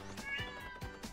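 A pet cat meows loudly and insistently in a drawn-out, whining call that rises and falls, close by, with faint rustling beneath.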